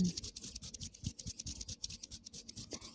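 Soft close rubbing and brushing of skin, quick repeated strokes with a dry scratchy texture, quiet and intimate, no talking.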